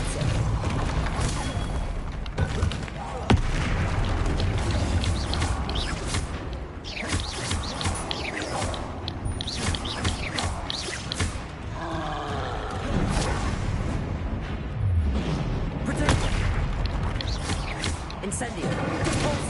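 Spells are cast in the video game Hogwarts Legacy, a dense mix of booms, whooshes and crashing impacts that run continuously under a voice calling out the spell names.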